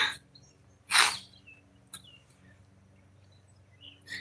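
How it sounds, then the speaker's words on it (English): A few scattered bird chirps and short calls sound at a moderate distance, separated by quiet gaps over a faint low background hum. "I hear the birds singing"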